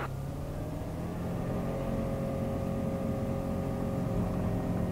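A VL3 light aircraft engine drones steadily and grows louder as it builds power for a heavily loaded takeoff run on runway 20 at Gap, a continuous near propeller roar with no clear talk.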